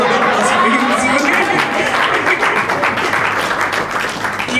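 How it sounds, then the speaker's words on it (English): Audience at a Nigerian movie presentation event clapping and murmuring, a loud, continuous wash of hands and crowd noise that eases a little toward the end. "A round of applause for him too."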